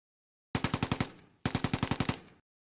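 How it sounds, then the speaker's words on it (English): A tank's machine gun firing in the Close Combat: A Bridge Too Far war game, two loud close bursts of about eight rapid shots each, separated by a short pause. "The tank returns fire from its machine gun and its main gun."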